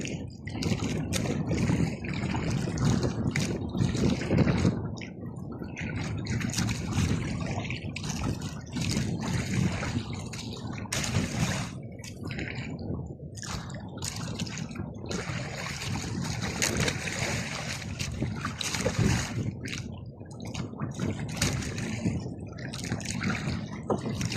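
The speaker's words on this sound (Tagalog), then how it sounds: "Sumasayo na yung bangka sa laki ng hukol." A boat pitching and rocking on large sea swells, with steady broadband wash of water and wind, sloshing and creaking throughout, continuous and fairly loud with no talk.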